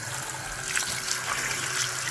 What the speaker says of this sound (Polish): Lejemy zimną wodę.